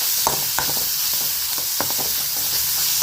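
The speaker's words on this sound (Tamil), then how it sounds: "அந்த சிக்கனையும் சேர்த்து நல்லா வதக்கிக்கலாம்" Minced boneless chicken sautéing in a pan for cheese balls, a soft, steady sizzle with intermittent spatula scrapes and taps, close by, no speech.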